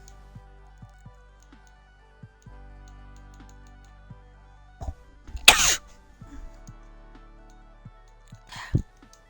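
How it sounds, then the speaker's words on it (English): A single sharp sneeze bursts out mid-clip in a quiet room, followed by a fainter breathy sound near the end, with soft keyboard taps and clicks scattered throughout. "Definitely sneeze."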